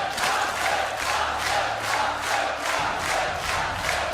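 A large Polish crowd at a StarCraft 2 WCS Premier League esports tournament chants and cheers steadily, a loud rhythmic roar that swells and dips at an even pulse throughout.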